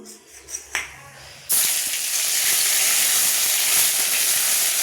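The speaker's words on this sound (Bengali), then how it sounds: "এরপর আদা বাটাটা দিয়ে দেবো।" Ginger paste hits hot oil in a pan with a sudden loud sizzle that holds steady and bright to the end, after a few soft clinks and rustles.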